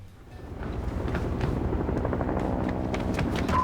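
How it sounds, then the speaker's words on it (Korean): A rescue helicopter in a Korean zombie action film gives off a continuous, rumbling rotor drone that swells slightly and holds steady, with no voices over it. "저 멀리 구조 헬기 소리가 들립니다."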